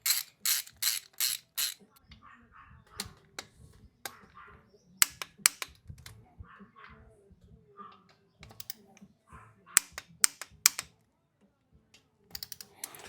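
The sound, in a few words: torque wrench tightening 1/4-20 bolts to 115 inch pounds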